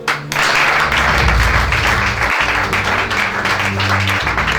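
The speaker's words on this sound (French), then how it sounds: "Acclame Jésus" A crowd at a religious gathering breaks into loud, sustained applause and cheering acclaiming Jesus, a dense wall of clapping and voices that begins abruptly and holds steady for several seconds with a brief dip midway.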